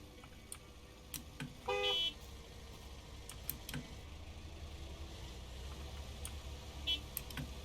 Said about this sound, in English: Why is there honking happening? I hear honking.